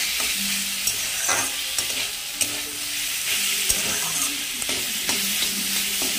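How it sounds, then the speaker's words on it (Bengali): Banana seeds fry in a pan with a continuous loud sizzle, broken by repeated scraping and stirring knocks from a spatula, with no talk over it. "দেখো প্রায় ভাজা ভাজা হয়ে যাচ্ছে"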